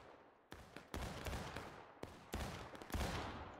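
An infantry line fires a ragged volley outdoors, with several sharp rifle cracks in two uneven bursts, each echoing and rolling away, loud and close.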